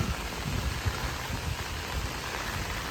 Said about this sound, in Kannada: ಟೈಫೋನ್ ಗಾಳಿ ಎಲ್ಲ ಸ್ವಲ್ಪ ಕಡಿಮೆ ಆಗಿ ಮಳೆ ಜಾಸ್ತಿ ಆಗೋಗಿದೆ